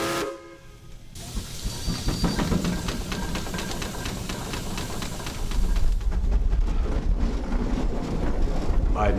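A big steam-powered farm tractor runs close by, its engine puffing in quick rhythmic chuffs with a hissing steam undertone that grows heavier and louder partway through.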